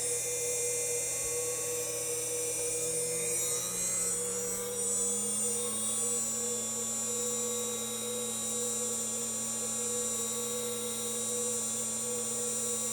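A Huanyang VFD-driven CNC spindle hums steadily at a low 1350 RPM. Its electrical whine shifts pitch early on, then holds even and constant, with no voices.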